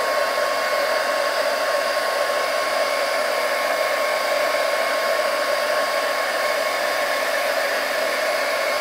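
Hair dryer blowing steadily on a small wet painting, a loud, even, continuous whooshing hum held close throughout with no breaks.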